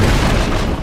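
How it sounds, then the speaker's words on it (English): A firecracker goes off in Sekiro: Shadows Die Twice as one loud, close, booming blast that lasts under a second. "so firecrackers work pretty good"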